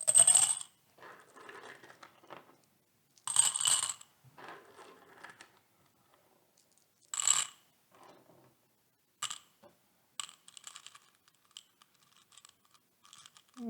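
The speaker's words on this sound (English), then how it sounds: "The next part is we're going to put our rocks in there." Small rocks poured into a macramé hanging planter: bursts of rattling, clinking stones in short clusters separated by pauses, close and sharp, with no talking.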